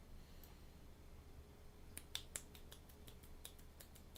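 A few sharp finger snaps in jazz-club style, starting as a quick double snap and then settling into a loose rhythm of evenly spaced clicks over a low room hum, close by and moderately loud.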